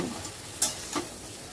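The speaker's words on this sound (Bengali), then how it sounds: "আবারও সব কিছু ভালো করে একটু ভাজা ভাজা মতো করে নিচ্ছি।" A spice mixture fries and is stirred in a pan, a low steady sizzle broken by two short scraping strokes of the spoon, close by with no talk.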